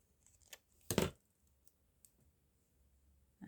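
Scissors snipping paper while making book page tags, with a single crisp close cut among a few faint clicks, then quiet.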